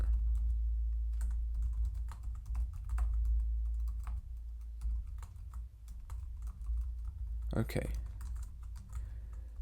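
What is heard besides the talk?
computer keyboard typing C code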